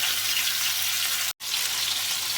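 A piece of meat frying in a pan, a dense, steady sizzle heard up close, broken by one very brief silent gap.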